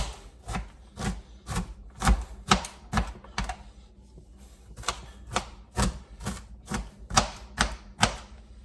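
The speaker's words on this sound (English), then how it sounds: "So what I'm going to do is take my knife, and I'm just going to kind of go through that way. If I see any big pieces, I'll chop them up." A knife chops tomato soup ingredients on a cutting board, sharp close knocks in quick uneven bursts of two to four, with short pauses between runs.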